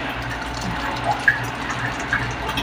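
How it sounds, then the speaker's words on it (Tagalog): Cold tap water running and splashing steadily into a bowl of cut potatoes being soaked for French fries, a continuous close wash of liquid with a few small drips and splashes. "Ilalagyan ko siya ng malamig na tubig"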